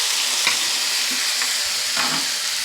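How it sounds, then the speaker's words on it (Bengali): Onion, ginger-garlic paste, green chillies and tomato fry together for a fish-head kalia curry, giving a loud, dense, continuous sizzle up close with a few soft stirring scrapes. "সব মশলাগুলোকে কিন্তু একসঙ্গে আমি ভেজে নেব।"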